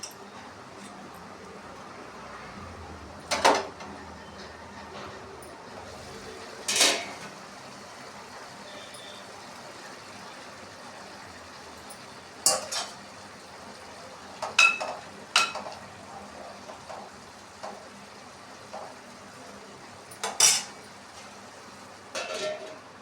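Tomatoes being chopped with a knife for a tomato and cucumber curry, heard as scattered sharp knife strikes on a cutting board, sometimes single and sometimes in quick pairs, over a quiet room background with no talking.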